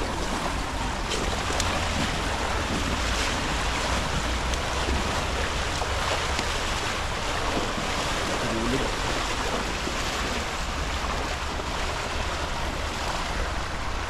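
Strong rushing river water roars steadily and loudly, a dense continuous wash that stays constant throughout, close by along a scary path to a fishing spot.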